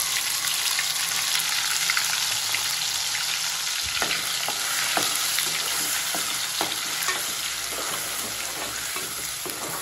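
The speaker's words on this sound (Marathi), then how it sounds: "तर आता टाकतो याच्यात कांद्याची पेस्ट" Onion paste hits hot oil with whole garam masala for a chicken biryani, giving a loud, steady, close sizzle that runs throughout, with a few sharp spatula clicks in the pan.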